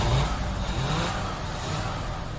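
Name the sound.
1978 Mercury Marquis engine starting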